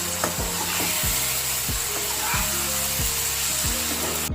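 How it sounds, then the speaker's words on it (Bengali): Potato pieces are sautéed with spices in a pan for Bengali macher kalia, giving a steady close sizzle broken by regular scraping strokes of a spatula about every three-quarters of a second, with faint music underneath. "দিয়ে মশলার সঙ্গে কষিয়ে নেব।"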